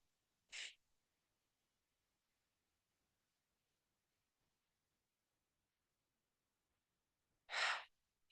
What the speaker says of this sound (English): we inhale through the nose, double exhale, double release out of the system